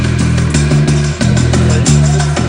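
An X Raid Mini rally car driven at full throttle through vineyards, a loud close engine roar with rhythmic surging as gears change, several brief dips between pulls, no voices.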